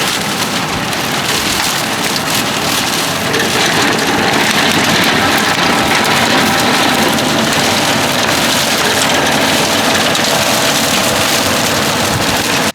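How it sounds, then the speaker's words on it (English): A tractor with a front mower tops potato stalks in a field, giving a steady, unbroken mechanical roar and rushing hiss that stays loud and close the whole time, with no voices. "So this is their front mower they've got out now"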